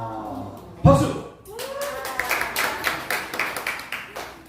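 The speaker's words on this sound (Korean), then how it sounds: "박수!" Clapping from a church congregation breaks out after a voice calls for it, starting as a burst of overlapping claps that settles into a rhythmic, moderately loud beat, with voices heard at the start.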